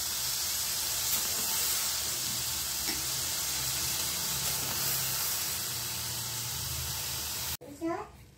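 Green beans (farasbi) hitting a hot pan on a lowered gas flame give a steady, close hiss of sizzling that runs throughout, with a voice faintly in the background and a brief clatter near the end.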